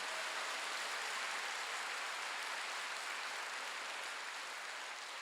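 Church congregation applauding during a Sunday worship service, steady dense clapping from a large crowd that fills the whole stretch, even and sustained without voices.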